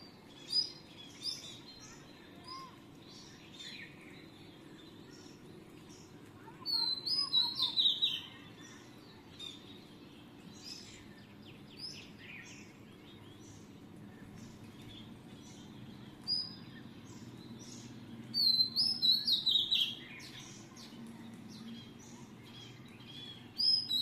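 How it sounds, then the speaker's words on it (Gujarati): Birds chirp and sing outdoors around a home where parrots visit, with scattered short tweets and brief bursts of song over a quiet, low background hum. "અને તમે એકવાર હે ને નેચરલી બધા પક્ષીના અવાજને એવું સાંભળો છો."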